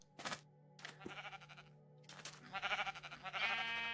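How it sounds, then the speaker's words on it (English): Sheep bleat in the Minecraft video game, several wavering, nasal calls in a row, fairly close, with a steady low hum under them. "Do we have a pink sheep situation?"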